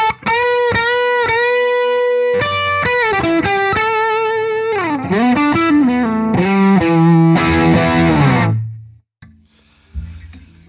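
Electric guitar played through an H&K Spirit Nano amp with a sagging, distorted lead tone. Loud sustained notes and bends run for about nine seconds, with no talking, then cut off abruptly.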